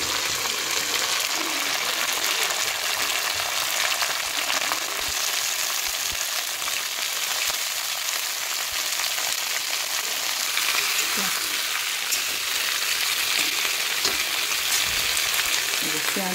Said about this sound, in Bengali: পেঁয়াজগুলো ভাজা হয়ে গেলে এই সবজিগুলো দিয়ে দেবো।